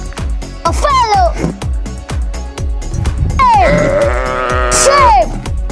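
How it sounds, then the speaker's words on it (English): A sheep lets out two bleats, a short wavering one and then a longer, drawn-out cry, heard loud and close over a steady, thumping rhythmic beat. "Sheep!"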